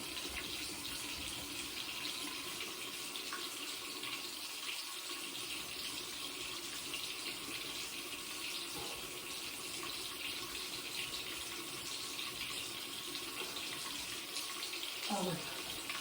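Warm water runs steadily from a bathroom tap, a continuous close hiss of splashing flow that lasts throughout, with a few faint handling sounds near the end.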